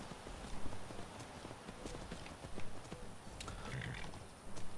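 A horse walks in Skyrim, its hooves clopping in a steady, moderately close rhythm over a constant rain-like background hiss.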